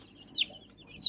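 A hand-held domestic chicken lets out two short, high, squeaky clucks close by, with a quiet pause between them and no voices.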